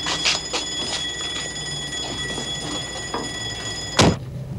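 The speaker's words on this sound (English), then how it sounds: "Was that a joke, setting off the alarm?" An alarm bell rings continuously at moderate loudness with a steady metallic tone, while a sharp knock or thump stands out near the end.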